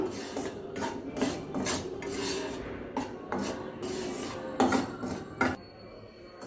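Wheat flour being dry-roasted in a pan over a low flame, heard as repeated rasping, scraping strokes of a spoon across the pan in an uneven rhythm, close and steady with no talking.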